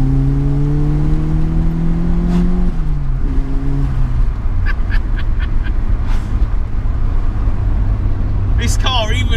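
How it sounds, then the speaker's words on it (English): Series 1 Ford Escort RS Turbo pulling away in second gear on a slightly wet road, engine note rising loud and close with a brief scrabble of front wheelspin, under constant cabin and road noise. "Nice little bit of front end spin there."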